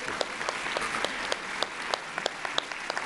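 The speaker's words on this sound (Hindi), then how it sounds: "ताली बजा दो भाई" An audience claps together at a formal agreement-signing ceremony for farming and agricultural institutions, a steady dense wash of applause with a few sharper claps standing out, continuous and fairly close.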